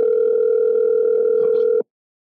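A phone with a problem sends out a steady, loud, continuous tone that holds evenly for almost two seconds and then cuts off abruptly into silence.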